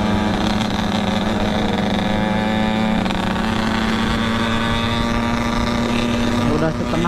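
A Kawasaki Ninja SS, Yamaha RX King or Suzuki Satria RU motorcycle engine idles steadily and close by, with a constant buzzing drone throughout.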